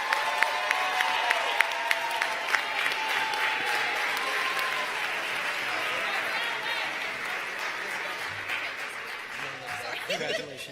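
An awards-ceremony audience claps for graduating four-year seniors, sustained applause that begins with a few sharp individual claps and swells into a steady crowd, with chuckles and talk mixed in and fading slightly near the end.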